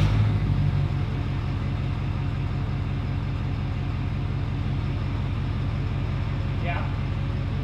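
Ford F250 Super Duty pickup engine idling steadily at close range, a low continuous rumble with a brief higher whine near the end; no speech.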